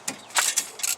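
A ratchet loosens 14 mm brake caliper bracket bolts on a 2014 Subaru Outback, giving three or four quick metallic clicks in about a second, close and crisp.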